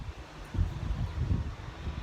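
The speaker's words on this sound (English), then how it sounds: "it's windy today." Gusty wind blows across a high-desert garden near a chicken coop, low buffeting rumbles swelling and easing against the microphone, moderately loud with no talking.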